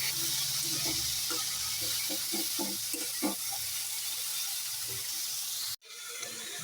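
Bitter gourd and potato pieces fry in oil with a steady, close sizzle and hiss, broken by occasional stirring clicks, before the sound cuts off sharply near the end and resumes.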